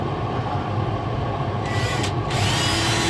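A small drill bores out rivets on an aircraft instrument panel, a steady loud whirring grind with a brief change in pitch as the bit breaks through, no voices.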